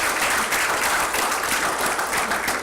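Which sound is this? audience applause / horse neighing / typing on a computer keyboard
audience applause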